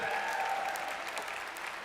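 Summit audience at a 2017 Zija convention presentation gives a round of applause, a continuous, full crowd clapping sound filling the room throughout.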